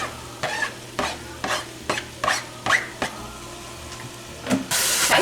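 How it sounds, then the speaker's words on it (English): Ground beef and onion sizzle in a single pot for sloppy joe soup, with a steady frying hiss broken by about ten rhythmic scraping stirs of a spoon, close and clear, ending in a louder burst of sizzle. "we're going to cook this until the ground beef is done"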